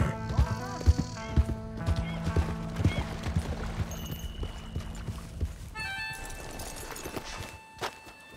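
Horse riding in the video game Red Dead Redemption 2, with repeated hoof clip-clops, snorts and a whinny over a musical backdrop, and voices speaking intermittently.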